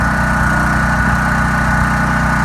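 A brand-new Champion 100297 portable generator runs steadily just after its first start-up, a loud, even engine drone with a low rumbling pulse and no talk over it.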